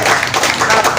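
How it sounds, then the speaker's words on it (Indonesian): An audience gathered for a Pi Network community visit in Ponorogo claps together in a brief, dense burst of close, lively hand claps. "Tepuk tangan."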